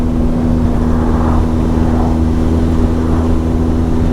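A motorcycle engine drones steadily at a constant pitch as the bike rides through sunny countryside, loud and close with wind rush and no speech.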